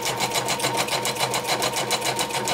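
Domestic sewing machine running loudly at a steady fast stitch, its rapid regular clatter continuous and close throughout with no voices.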